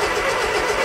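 A 1968 Bedford CA ice cream van engine fires on an attempted start, a loud, steady, dense roar of exhaust and engine noise filling the short stretch without pause, close to the microphone and with no talk over it.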